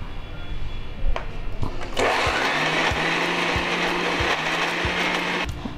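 A mixer grinder whirs steadily while grinding dried red chillies, fennel seeds, salt and turmeric into a spice paste, its motor running loud and close with a rattling, grinding texture after a few brief knocks at the start.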